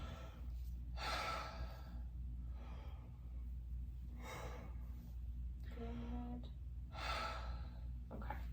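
A patient takes three slow, deep breaths during a respiratory health exam, each a soft audible inhale-exhale spaced a few seconds apart, close and quiet with no talking.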